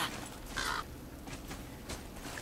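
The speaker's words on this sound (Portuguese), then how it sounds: "Aquele passarinho." A bird gives one short, clear call in the game God of War, set against a steady, noisy game ambience.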